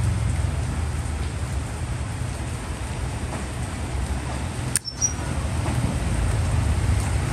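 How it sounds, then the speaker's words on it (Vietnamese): Heavy rain pours in a steady, loud broadband wash throughout, with one brief sharp click near the end and no speech. "mưa lớn rồi"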